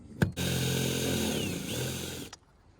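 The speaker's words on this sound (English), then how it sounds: "Today I'm drilling the holes for the chain plates to the final size." A power drill boring holes for bronze and carbon chainplates, a loud sustained whine that starts abruptly after a sharp knock, holds steady for about two seconds, then cuts off.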